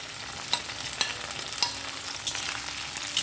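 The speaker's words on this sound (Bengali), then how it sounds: "শিমটা দিয়ে কিছুক্ষণ নাড়িয়ে চাড়িয়ে ভেজে নেব।" Beans and potatoes stir-fried in oil for a bethua greens dish give a steady hiss, with spatula scrapes clicking roughly every half second, close and clear with no voices.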